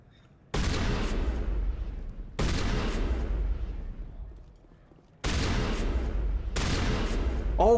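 Gunfire in a video game as the player shoots right beside a security guard: loud, dense bursts of shots arriving in four separate volleys, close and sharp, with short pauses between them and no talk over them.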